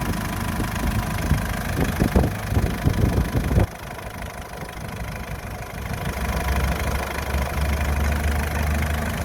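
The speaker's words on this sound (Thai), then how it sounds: "เสียงเครื่องดังสม่ำเสมอเลยนะครับ" A 2008 Mitsubishi Triton 2.5 diesel pickup engine idles steadily and evenly nearby, a low rumbling clatter with a brief louder knocking stretch early on.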